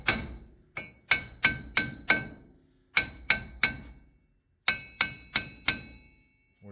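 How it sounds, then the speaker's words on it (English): A hammer taps on a Chevrolet Silverado/GMC Sierra wheel bearing during a DIY replacement. Crisp, ringing metallic strikes come in quick bursts of three to four taps with short pauses between them, close and clear. "we're just going to tap on it"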